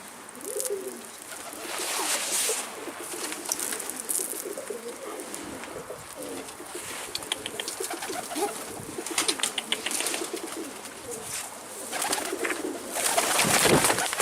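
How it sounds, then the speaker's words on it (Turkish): Soft pigeon cooing repeats through the scene over a busy, rustling background, with a few faint chirps and flutters mixed in. "Kuş korktu."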